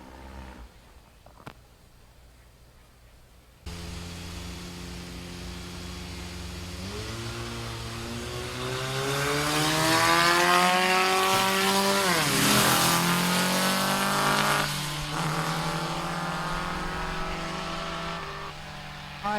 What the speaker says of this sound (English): Close drag race